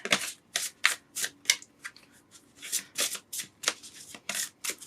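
Oracle card shuffling, a quick run of crisp riffling bursts one after another, close up and fairly quiet.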